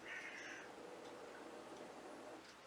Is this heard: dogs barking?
no